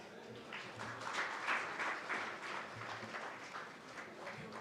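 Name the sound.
audience applause welcoming a guest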